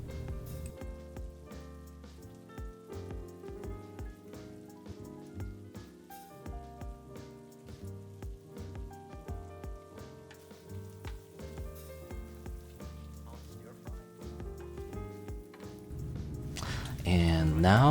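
Shrimp and sausage frying together in a pan give off a continuous crackling sizzle beneath steady background music, growing louder toward the end.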